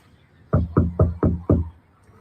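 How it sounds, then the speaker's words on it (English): Five firm knocks on a door come in an even, quick rhythm, loud and close, with quiet before and after and no talk. "maybe give it another knock"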